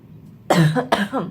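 Two sharp, harsh coughs close by, one after the other with a short gap, in an otherwise quiet room.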